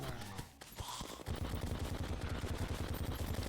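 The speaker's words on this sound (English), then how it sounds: "these exploding bullets are going to do serious work" Exploding bullets fire in Terraria (Master Mode, version 1.4.3) as a steady, rapid automatic volley, with dense repeated game gunshot bursts that run continuously through most of the clip after a brief scattered opening.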